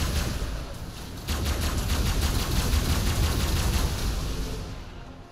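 A rapid-fire weapon in ARK: Survival Evolved shoots a sustained, fast stream of shots, a dense continuous rattle that holds steady for several seconds with no break.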